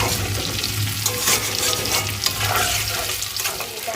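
Banana slices fry in a pan with plenty of oil and turmeric, giving a steady, close sizzle and crackle that continues without pause for the whole stretch.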